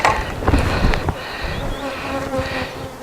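Bees buzz around an open hive, a close, dense hum with individual insects droning past the listener, loudest in the first second and steady afterward.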